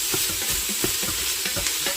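Drained ground beef stirred with a spatula in a hot pot for chili cheese beefaroni, a close, steady sizzle broken by rhythmic scraping strokes, with no voices.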